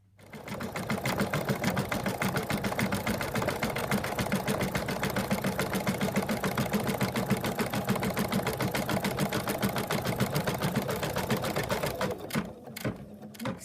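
An embroidery machine runs a decorative stitch across an in-the-hoop fabric elephant, its rapid, even needle chatter holding steady and close for about twelve seconds before stopping.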